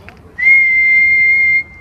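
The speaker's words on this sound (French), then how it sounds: "Je vais te faire une sifflette pour le report" A person whistles a single steady, clear tone over a CB radio link as a signal test, holding it for about a second before it cuts off abruptly.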